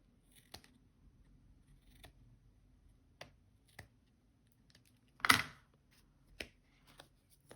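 Scissors trim excess ribbon on a handmade Christmas card, with sparse quiet snips and small paper handling taps in a hushed room, one louder crisp cut in the middle.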